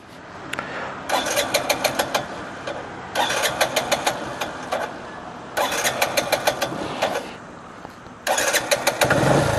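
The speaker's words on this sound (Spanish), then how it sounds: "Bueno, ahí prendió, miren." Bajaj Boxer CT motorcycle engine cranking and firing in repeated bursts, each start attempt a rapid rattling chug lasting a couple of seconds with pauses between, close and fairly loud, no talking.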